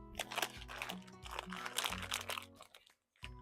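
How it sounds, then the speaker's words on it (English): Semi-sweet chocolate chips from a 12-ounce bag pour into brownie batter, giving a steady close rattling crunch with a low rumble underneath for about three seconds, then a short break before a final patter. "we're going to put about a cup of chocolate chips, and these are semi-sweet chocolate chips"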